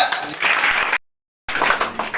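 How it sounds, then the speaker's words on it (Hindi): Loud applause from children at a Children's Day event in a coaching centre, broad dense clapping in two bursts separated by a short silent gap. "जोरदार तालियां"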